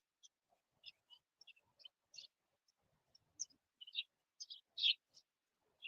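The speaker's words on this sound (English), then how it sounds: "I think those are the swallows that go up underneath the bridges and make nests" Swallows nesting under a bridge give thin, high chirps and twitters in scattered bursts, faint and a little distant, heard by a river after the thaw with no talk over them.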